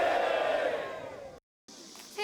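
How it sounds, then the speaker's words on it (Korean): Thousands of villagers at a rural football match in Pohang shout a long, loud unison cheer that fades out, followed by a brief cut and faint ambient crowd noise. "포항시 신광면에 사람들의 만세 함성이 울려 퍼집니다."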